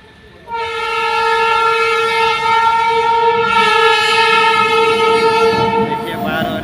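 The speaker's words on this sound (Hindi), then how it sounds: "देखिए ट्रेन आ रही है, उसका अलार्म हॉर्न बज रहा है" A freight train passes a closed railway level crossing on the line from Mori Junction, its horn sounding long and loud almost the whole time over the steady rumble of the wagons.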